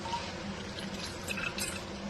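Tamarind water for sambar being strained, a faint, steady trickle of liquid through a strainer, continuous and close for the whole stretch with no talking.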